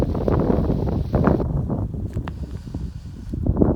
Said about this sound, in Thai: บริเวณที่เฮา เฮ็ดสวนเฮ็ด อันนี้อันนั้นนี่มีแต่ลมพัดตลอด